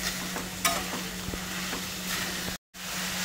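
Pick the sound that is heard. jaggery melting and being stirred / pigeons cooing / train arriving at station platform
jaggery melting and being stirred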